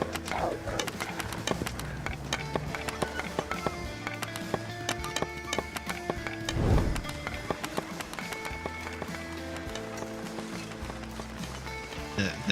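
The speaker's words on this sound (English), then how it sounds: "The sound of the horse skipping along the cobblestone road as Jack the Ripper resurfaces." Horse hooves clip-clop at a running pace along a cobblestone road in a town at night, steady and fairly close, mixed with a dense layered music score and a brief low rumble midway.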